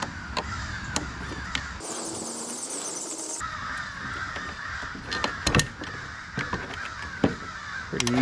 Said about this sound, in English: We've got the morning crows coming out to greet us.